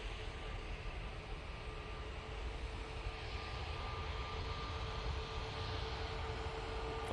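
An EasyJet airliner on approach gives a steady, continuous broadband jet roar with a faint tonal whine, holding level and fairly distant throughout with no talk.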